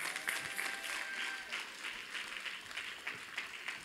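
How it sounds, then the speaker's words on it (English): Church congregation at a Palm Sunday celebration service claps hands steadily for several seconds, a dense wash of applause with faint voices and a tonal note beneath, heard from some distance and fairly quiet. "Are you putting your hands together?"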